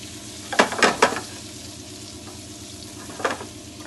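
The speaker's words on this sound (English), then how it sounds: "So I'm going to turn that in the hot oil. Turn it down a little bit so it stops spitting at me." Potato and cauliflower fry in hot oil, a steady sizzle that breaks into brief loud spitting crackles near the start and again toward the end.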